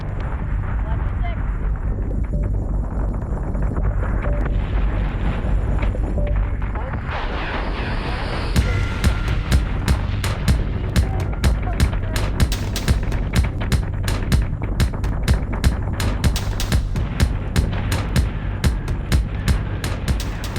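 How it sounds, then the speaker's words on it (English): A space battle in an audio drama brings a deep rumbling roar and distant blasts. These build into a steady barrage of sharp rapid gunfire shots, loud and close, continuing over explosive low booms, with voices heard in places. "The Acropolis is taking some heavy fire, guns, and a rogue squadron of raiders"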